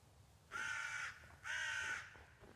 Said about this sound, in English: I don't even know where that crow was.